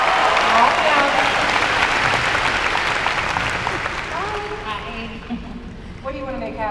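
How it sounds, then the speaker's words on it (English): An audience gives a round of applause for a woman called up to stand at a motivational talk, a broad wash of clapping that fades over several seconds as a voice begins speaking over it. "Give her a round of applause"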